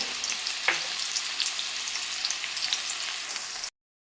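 Pumpkin pieces frying in a pan for a vegetarian potato, pumpkin and chickpea dish, giving a steady close sizzle with a few sharper crackles and spatters, stopping abruptly near the end.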